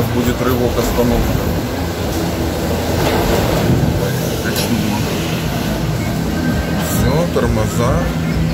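Train carriage rolling and braking toward a stop, with a steady low rumble, rail clatter and brake hiss continuing throughout, close and fairly loud.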